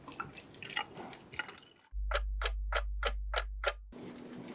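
Film developer liquid is poured during home film processing, a steady low gush with a run of regular drip-like plops on top, following a stretch of quiet talking.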